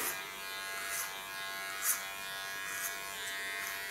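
Kiona electric hair clipper shaving the nape of the neck, a steady close buzzing hum with small surges as it moves across the hair.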